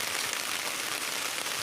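Steady rain hisses across the whole stretch, a dense, even wash of drops with no voices and no breaks.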